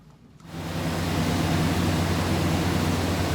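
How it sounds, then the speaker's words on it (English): Water switches on and runs steadily from a tap for washing hands, a close, loud, even rushing hiss that starts abruptly and continues without a break. "I'm going to wash my hands and go."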